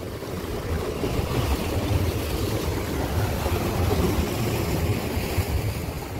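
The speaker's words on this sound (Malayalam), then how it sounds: "നല്ല ചെറിയ കാറ്റും നല്ല തിരയുമാണ്." Wind gusts and sea waves surround a small fishing boat out at sea, a continuous rushing, buffeting roar with low rumbling surges and wind noise on the microphone, close and steady, without speech.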